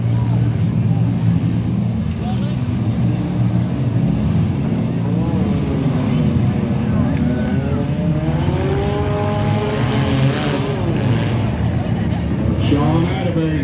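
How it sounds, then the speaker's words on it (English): Compact cars run at a demolition derby on a dirt track in Fairfield, Illinois. Engines rumble and rev steadily in the distance under continuous announcer talk, with wavering pitch as the cars maneuver. "Dan Hopper, that cop car is still moving out there"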